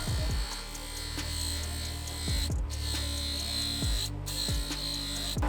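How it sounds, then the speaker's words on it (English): Flap wheel on a power tool smoothing a motorcycle triple clamp during an RM250 rebuild, a steady high whine with a low hum, broken by a few brief dips as the abrasive is lifted and reapplied, close and continuous. "Good thing I got the flap wheel out and I noticed it."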